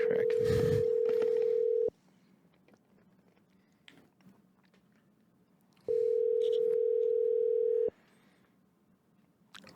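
A telephone ringback tone sounds while a call is being placed, two long steady beeps separated by a pause, with faint background rustling and chewing-like noises between them.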